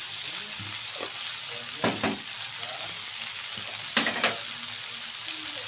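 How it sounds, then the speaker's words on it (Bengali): Onion fries in oil with salt and turmeric for chicken keema, making a steady close sizzle broken by occasional scraping stirs of a spoon. "এখন ভালো করে পেঁয়াজটাকে লাল লাল করে ভেজে নেব।"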